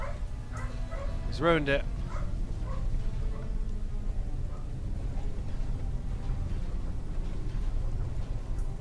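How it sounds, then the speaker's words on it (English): A dog in a room nearby lets out a few sharp yips and a rising, whining whimper, brief and mid-distance, over someone talking and low background noise during a Space Siege game session. "my dog's going mental"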